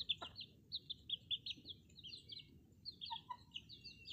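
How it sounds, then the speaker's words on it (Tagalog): Chicks peep in a rapid run of high, faint cheeps while a chicken gives a short low cluck. It is a quiet indoor scene with a soft background rumble. "Yan pala yung mga sisiw na yan guys."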